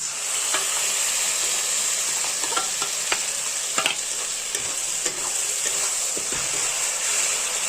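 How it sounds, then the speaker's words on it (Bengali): Tomato paste, mustard and yogurt fry in a pan, giving a steady close-up sizzle and hiss with repeated scrapes and clicks of a spoon stirring through the mixture. "আমাদের টমেটো পেস্ট সব কিছু ফ্রাই হয়ে গেছে"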